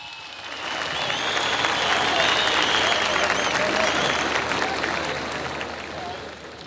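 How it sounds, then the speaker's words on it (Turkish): Sustained audience applause at a live solidarity concert, broad and loud from a large crowd, swelling and then tapering slightly over several seconds without pause. "Bir kez daha kendisini alkışlıyoruz"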